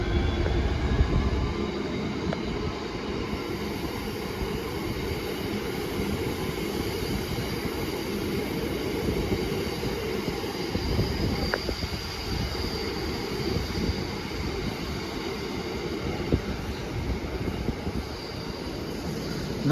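Class 66 locomotive 66782 of Charity Rail Tours passes on the West Coast Main Line with a sustained heavy rumble of wheels and wagons, loud and steady throughout with a brief squeal midway.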